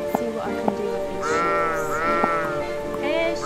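Several sheep in the game Old Man's Journey bleat in quick succession, wavering and fairly close, with a few short bleats overlapping one another.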